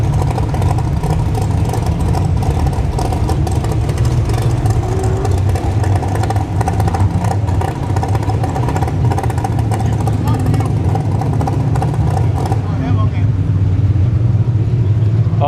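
A drag racing dragster at a test-and-tune session on a dragstrip roars steadily with a loud, dense engine rumble that holds for the whole stretch, with voices talking over it.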